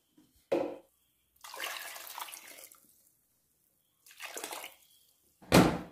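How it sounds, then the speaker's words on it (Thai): Water is poured into a pot over pieces of fish, arriving in short separate splashy bursts with quiet gaps between them, close up. "ใส่น้ำลงไปค่ะกะให้ท่วมปลานะคะ"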